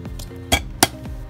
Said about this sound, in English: I'm gonna go ahead and put this lid over it